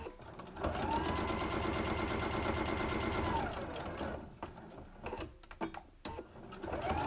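A sewing machine stitches a cloth face mask at close range, a fast steady mechanical whir for several seconds, then stopping and restarting in short bursts with clicks as the back stitch is toggled.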